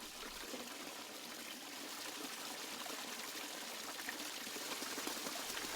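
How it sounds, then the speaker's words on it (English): A garden pond waterfall fed by a 550 gallon-per-hour pump, giving a steady, soft rushing and trickling wash of water that continues evenly throughout, with no voices. "Watch the change in effect as you increase the water flow."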